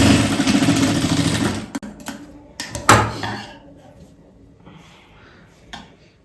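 A sewing machine stitches the shoulder seam of a tucked blouse, running in a fast, dense whir for almost two seconds before stopping. Scattered clacks and handling knocks follow in a quieter room.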